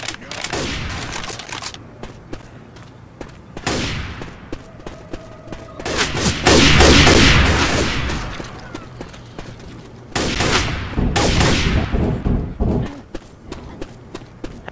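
Gunfire in the zombie shooter game Left 4 Dead 2: loud, repeated bursts of rapid shots, with a long sustained volley in the middle and another near the end.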